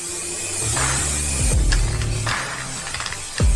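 Spray primer hisses onto a large bucket in short bursts, a close, steady aerosol spray with brief pauses and a few handling knocks between passes.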